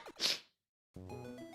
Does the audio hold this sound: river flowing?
no